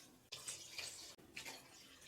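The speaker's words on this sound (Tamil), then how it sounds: "3 கப் அரிசிக்கு 4 கப் தண்ணி ஊற்றுறமா நான்." Water is poured into a pot of sautéed soya and rice for soya biryani, a steady splashing gush broken by one brief pause, close and alone without talk.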